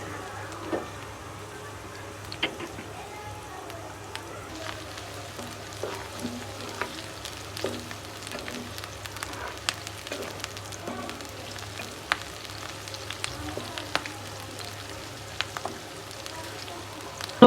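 Chopped onion and green chili frying in oil in a home kitchen while cooking taro with shrimp: a soft, steady sizzle with scattered crackles and pops and occasional stirring clicks throughout.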